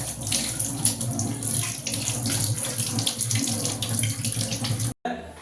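A kitchen tap runs steadily while hands are washed before rolling poori dough, a close continuous splashing stream that cuts off abruptly near the end, then briefly resumes.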